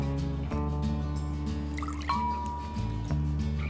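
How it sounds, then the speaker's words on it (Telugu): Tamarind water drips and trickles into a bowl with small splashes, over a low background hum, no voices. "చింతపండు వాటర్ వేసాను"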